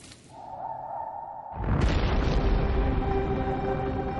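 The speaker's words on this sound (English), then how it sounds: "Volcanoes become more active, spewing out poisonous gases and clouds of dust" Volcanic eruption: a rising rumble breaks into a deep, roaring boom that swells into a sustained, broad blast of explosive noise, loud and close, with no voices.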